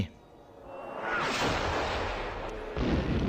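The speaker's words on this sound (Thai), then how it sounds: "เสียงลูกกระสุนปืนใหญ่ดังวีดวิวแหวกอากาศมาอย่างน่ากลัว" An artillery shell whistles through the air: a loud rushing whoosh swells up and holds steady for a couple of seconds, then a second burst of roaring air follows near the end. No voices.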